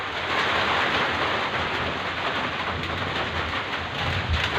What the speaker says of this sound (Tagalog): Ulan dito sa amin. Lakas pa ng hangin.